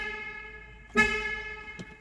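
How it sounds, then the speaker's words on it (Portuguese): A single loud honk from a Hyundai Creta 1.0 TGDi car horn, sounding like a truck horn, cuts in after a steady engine drone, followed by a short fainter toot moments later. "Vou buzinar aqui para vocês,"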